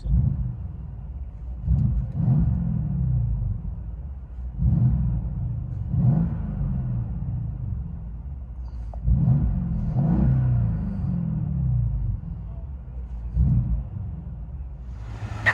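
A 2012 Mercedes CLS 550 with a 4.6L V8, dual exhaust, and primary resonator and rear muffler deleted revs in about six deep, rumbling bursts spaced a few seconds apart, idling loudly between them.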